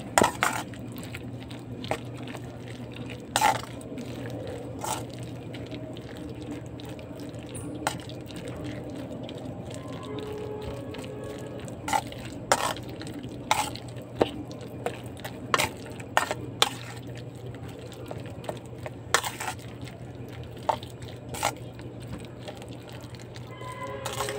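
A single jumbo egg beaten in a bowl for an okra and egg dish: a soft continuous swishing broken by quick, fairly regular taps of the utensil against the bowl, close and moderately loud.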